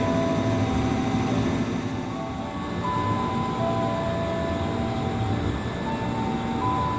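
A KRL Commuter Line train on the Tanah Abang route rolls steadily through Kebayoran station at night, a loud continuous rumble of wheels and cars with faint tonal squeals above it.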